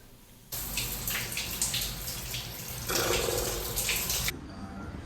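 A bathroom shower with no curtain runs steadily, a loud broadband hiss of spraying water that starts abruptly, splashes with shifting intensity for several seconds, then cuts off.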